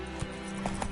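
A burst of horse hoofbeats from The Witcher 3, a few quick clops over steady background game noise.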